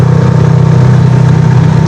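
A KTM RC 390 motorcycle engine idles close by, a loud, steady low throb with an even pulsing rhythm and no revving.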